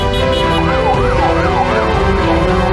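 A fire engine siren wails loudly and close by, its pitch sweeping up and down in a steady repeating cycle over a rumbling engine.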